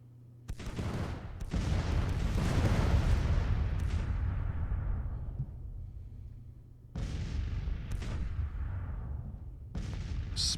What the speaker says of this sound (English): we're taking quite a bit of artillery fire here